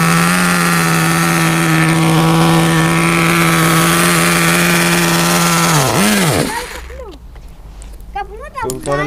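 A Kyosho nitro RC car engine revving on throttle, a loud, close, high buzzing whine that holds steady and then drops away, giving way to rougher, quieter idle sputters near the end.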